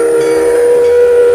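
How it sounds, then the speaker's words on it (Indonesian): A toy steam locomotive train sounds a loud, sustained whistle tone, steady and close, with no talking. "lihat ada juga lokomotif kereta api uap"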